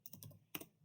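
Computer keyboard keys are pressed while network configuration commands are entered, a quick burst of soft close clicks followed by a sharper keystroke, quiet and alone.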